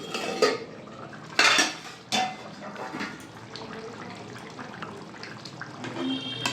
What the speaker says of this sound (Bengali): ঢাকাটা খুলে দেখে নেবো সেদ্ধ হয়েছে নাকি।